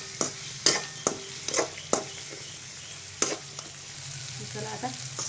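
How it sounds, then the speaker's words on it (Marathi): Onion and then tomato frying in a pan for a bread masala breakfast, a steady soft sizzle with several sharp clicks and scrapes of a spoon stirring against the pan, close up and without talk. "पहिला कांदा भाजून मग नंतर टोमॅटो भाजून घ्यायची"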